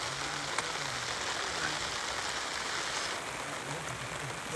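Rain falls steadily outdoors during a packraft trip on the Drôme river, a faint continuous hiss of drops with a few soft taps, no talking.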